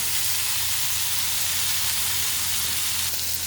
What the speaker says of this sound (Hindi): मैं शैलो फ्राई कर रही हूँ।